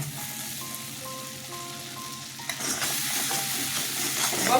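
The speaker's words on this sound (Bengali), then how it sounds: "কষিয়ে নেব কষানোর মধ্যেই" Sarputi fish with turmeric and salt stir-fried in a pan, a close steady sizzle with scraping stirs, growing louder and more spattery toward the end.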